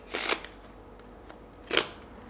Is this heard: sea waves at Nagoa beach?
no